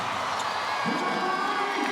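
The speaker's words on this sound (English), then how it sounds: "Crowd starting to come alive here." Basketball arena crowd at a WNBA game between the Indiana Fever and Los Angeles Sparks, a steady moderate roar of cheering that swells slightly midway as the fans come alive.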